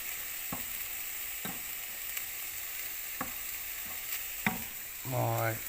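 Ginger, garlic and sugar stirred through in a frying pan, with a steady sizzle and sharp spoon scrapes at regular intervals, then a louder, fuller burst of frying near the end.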